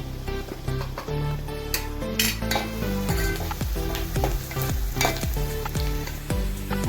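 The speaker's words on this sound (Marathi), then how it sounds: "कांदा ब्राऊन कलर भाजून त्यात हिंग पावडर थोडीशी घालूया" Browned onion sizzling in a pan after a pinch of asafoetida powder is added, steady frying hiss with repeated spoon scrapes and clinks against the pan, close and continuous.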